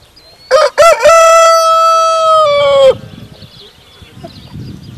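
A rooster on a free-range vegetable farm crows once, loud and close, a long drawn-out cock-a-doodle-doo over about two seconds, then faint farmyard rustling and low background noise.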